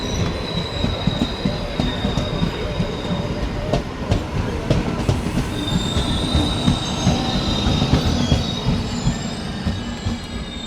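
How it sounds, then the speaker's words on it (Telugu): A crowded passenger train bound for Vijayawada runs past on the rails, its wheels squealing and clattering steadily and loudly throughout, with no talk over it. "ఈ పక్క అయితే మార్చాల నుంచి విజయవాడకి వెళ్ళే ప్యాసింజర్ ట్రైన్ అయితే వస్తుంది."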